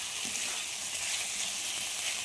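Chicken sautés in a hot pan with a bright, continuous sizzle that stays even and fairly close throughout, with no voices.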